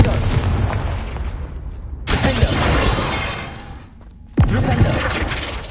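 A Confringo spell blast in Hogwarts Legacy, a loud, close fiery explosion with a shattering crack, then another sharp burst after a brief dip, each followed by a sustained rumbling roar.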